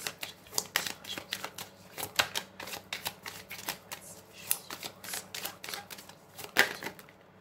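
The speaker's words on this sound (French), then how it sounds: "j'ai plusieurs cartes qui tombent" Oracle cards shuffled by hand in a quiet room, a rapid run of crisp riffling flicks and taps with a few sharper slaps as cards drop, close and fairly soft with no talking.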